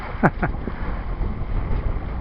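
A boat crossing the Bideford harbour bar in big waves and wind makes a loud, constant roar of wind and rushing water, with a couple of brief sharp creaks near the start.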